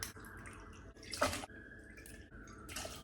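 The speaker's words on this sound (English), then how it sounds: "And then I'm going to add 100 millilitres of vodka." Vodka is poured into a cocktail mixer over ice in short, faint splashing bursts separated by quiet gaps, with a light liquid trickle and clinks close by.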